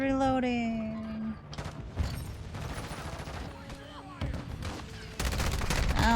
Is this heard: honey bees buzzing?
no